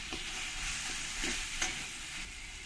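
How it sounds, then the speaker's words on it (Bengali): Spices and chili powder get stirred into tomato masala frying in a pan for a fish curry, a soft steady sizzle with a few muffled scrapes of a spoon, quiet and close, no talk. "লঙ্কার গুঁড়ো দিয়ে একবার সব কিছুর সঙ্গে ভালো করে মিশিয়ে নিতে হবে।"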